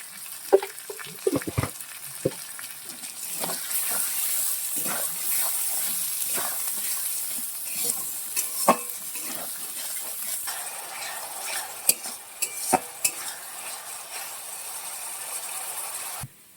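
Spice paste with chilli powder and salt frying for an egg curry, a steady hissing sizzle with irregular knocks and scrapes of a spoon stirring in the pan, heard up close.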